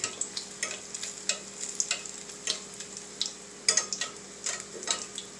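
Stuffed potato balls fry in oil with a soft, crackling sizzle, punctuated by light irregular clicks and taps of oil being scooped over them, fairly quiet and close.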